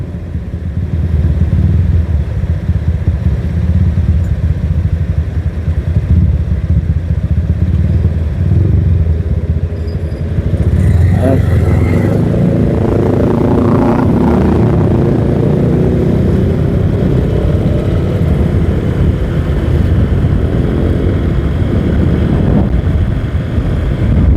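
A Honda All New Vario 125, a 125 cc motorcycle, is ridden with a continuous loud drone of engine and road noise that rises and swells midway, with no voices over it.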